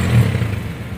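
A Honda TMX Alpha motorcycle converted to a 175cc engine runs with a deep, throaty idle that bumps up briefly, heard close for about a second without talk.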